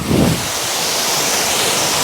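Tegenungan waterfall in Bali pours in a steady, broadband rush of water, close and continuous, with a slightly louder swell at the very start and no talking.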